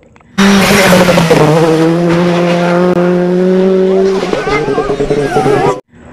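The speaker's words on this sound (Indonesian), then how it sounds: "yang ini mainan mobil balap" Toy race car giving off electronic racing sounds, a loud steady engine drone with tire-squeal effects, heard close and continuous for several seconds.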